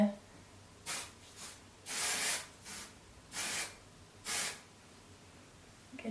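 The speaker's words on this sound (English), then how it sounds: "You're just supposed to shake well and spray in dry hair" Kevin Murphy texture spray is misted into dry hair in several short, sharp hissing bursts, one longer than the rest, separated by brief quiet pauses, close and fairly loud.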